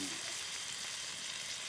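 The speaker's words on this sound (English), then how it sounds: "Listen to that sizzle." Loud, steady sizzling of steak frying in a hot pan, a continuous crackling hiss throughout.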